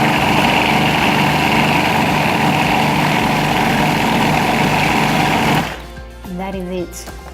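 A food processor blends artichoke dip with a loud, steady whirring drone that runs for several seconds, then cuts off abruptly, leaving a quieter tail with a brief voice.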